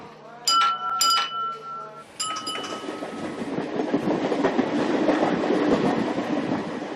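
A suburban train in Bombay rumbles along the railway tracks with steady clatter and rolling noise that builds and holds, after a few bright chiming tones at the start.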